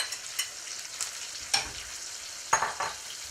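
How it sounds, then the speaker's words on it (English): Plantains fry in butter in a pan, with a soft, steady sizzle broken by a few sharp scrapes or stirs, close and fairly quiet. "I'm going to fry these up"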